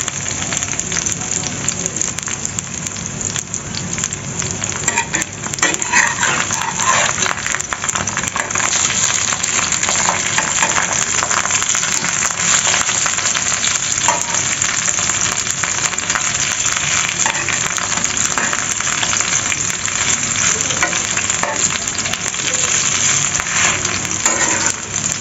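Bora fritters fry in hot oil, giving a constant dense sizzle and crackle that runs steadily throughout at a fairly loud, close level.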